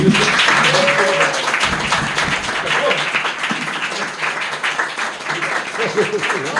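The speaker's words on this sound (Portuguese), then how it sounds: "todos nós agora vamos aplaudir o Gustavo" At a book launch, an audience applauds the author, a dense, sustained round of clapping from many people that fills the room, with voices murmuring and calling out beneath it.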